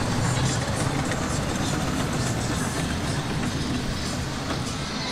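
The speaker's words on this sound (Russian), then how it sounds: "Во, очередной состав метро." A metro train at Legoland Dubai passes with a continuous low rumble and rolling wheel noise, moderately loud and even from start to finish, with no talking.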